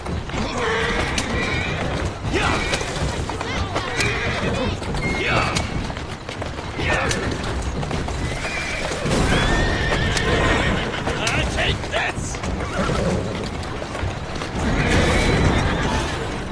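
A horse in Assassin's Creed Syndicate whinnies several times amid steady clip-clopping hooves, with a voice speaking over parts of it and some mechanical clanks in the background.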